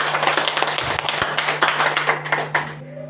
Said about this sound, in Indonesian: Lanjut, tepuk tangan Ibu.